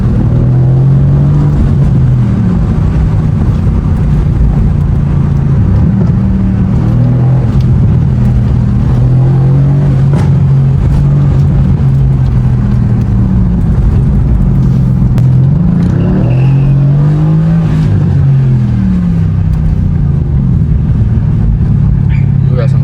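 A 500-horsepower AMG car on a night drive, its engine droning loud and close with rising and falling revs as it downshifts, a person talking over it.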